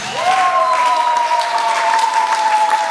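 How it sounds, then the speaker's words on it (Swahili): A church congregation applauds, a loud sustained wash of many hands clapping together, with a held tone running underneath throughout. "Makofi kwa Yesu."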